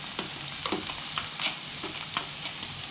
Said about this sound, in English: I'm going to put the onions in first to fry